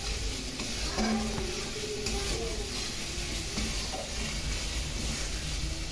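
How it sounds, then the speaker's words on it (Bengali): Spice paste with turmeric stirred and fried in hot oil in a pan, a steady close sizzle with scraping stirring strokes throughout, no talking. "এখন খুব ভালো করে কষিয়ে নেব এই মশলা"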